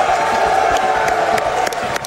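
A crowd cheers and whoops loudly and continuously in a lively indoor room, with scattered claps and shouts rising over a steady roar of voices.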